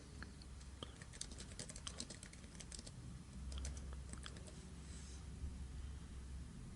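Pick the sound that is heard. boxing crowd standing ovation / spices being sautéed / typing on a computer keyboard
typing on a computer keyboard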